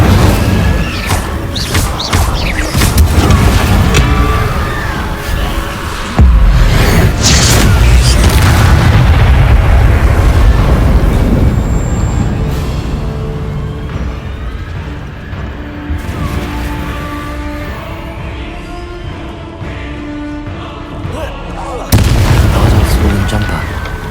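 Booming fire-spell blasts ring out in the Hogwarts Legacy video game as the Incendio spell is cast, loud bursts layered over dense game sound effects, with a voice speaking in the mix.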